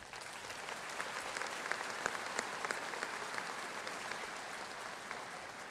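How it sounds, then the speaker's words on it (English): At the South Mecklenburg High School graduation ceremony, a large crowd applauds parents, grandparents, guardians and mentors. The clapping is distant and fairly quiet, a sustained even wash of many hands with occasional crisper claps. "Please join me in extending a round of applause to these individuals."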